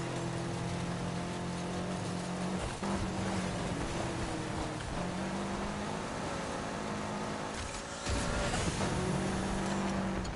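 A Subaru engine drones steadily through Need for Speed Heat on PlayStation 4, its pitch shifting with gear changes and a louder surge near the end.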